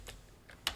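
Keyboard keys tapped while entering a chat command in LOTRO, three distinct close clicks spaced irregularly, the last one sharpest and loudest, with nothing else around them.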